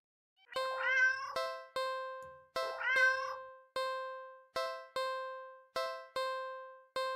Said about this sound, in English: The cat lets out a sad, pleading little sound.